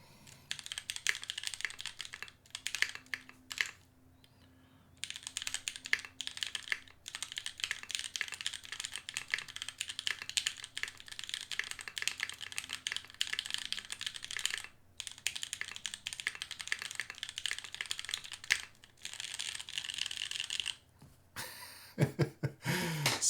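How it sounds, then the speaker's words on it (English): Steady, fast typing on a Pangea Mini R2 mechanical keyboard fitted with DCS keycaps, a dense run of close, crisp key clacks with brief pauses, ending in a flurry of keystrokes. "Let me find something to type here."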